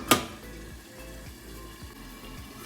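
Chicken cooking over a high flame in a covered pan gives a steady, low frying sizzle. A single sharp clatter comes near the start. No one speaks.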